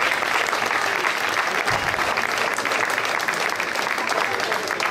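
A rally awards ceremony audience claps in sustained, dense applause, loud and close throughout, a continuous wash of hands with no break.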